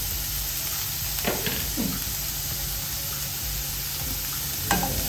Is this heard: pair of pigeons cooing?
no